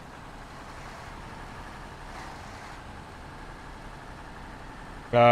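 Low, steady rumble of a truck engine in the SnowRunner driving game, idling or cruising evenly, with a sudden louder burst at the very end.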